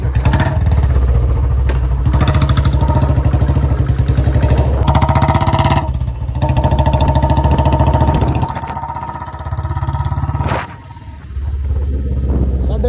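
A Royal Enfield Bullet motorcycle with a nickel-modified build runs loud and close, its thumping exhaust steady throughout, easing off briefly near the end as the revs drop.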